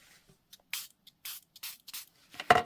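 Several short hissing bursts of Distress Oxide Cracked Pistachio ink sprayed from a small bottle, spaced out irregularly over a few seconds, close and fairly quiet, with a louder final burst.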